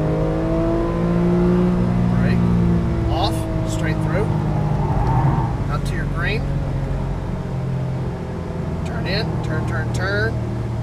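A Porsche 991 Carrera S from 2012 pulls out of a corner on track, its engine note rising steadily and holding a continuous droning tone while someone talks over it throughout.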